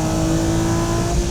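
Amuse-tuned Nissan 350Z accelerating hard on a race track, a steady loud engine drone with a sustained high whine, continuous and close throughout with no talking.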